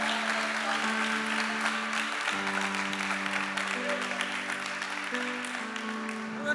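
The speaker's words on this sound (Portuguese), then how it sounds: "Você pode dar um aplauso ao Senhor?" A church congregation applauds together in a continuous, dense wash of clapping that holds steady throughout, with sustained organ or keyboard chords playing underneath.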